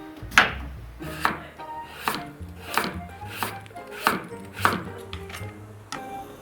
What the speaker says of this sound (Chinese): 将南瓜切成薄片